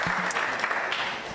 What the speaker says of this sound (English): can we give a round of applause to that law firm?